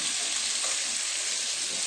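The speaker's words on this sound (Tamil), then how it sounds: "இறால், முருங்கைக்காய் இதெல்லாம் சேர்ந்து போட்டு கொதிக்குது வரணும்." A prawn and drumstick tamarind curry boils in a pot, giving a steady, soft bubbling sizzle that stays even and close throughout.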